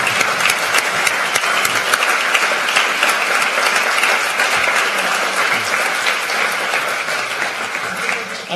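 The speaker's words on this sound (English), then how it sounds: "let's give them a round of applause" A large audience at a space studies program closing ceremony claps steadily throughout, a dense, loud, continuous wash of applause with no gaps.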